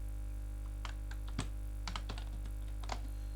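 Keys on a computer keyboard are pressed in sparse, uneven clicks, several separate taps close by over a steady electrical hum.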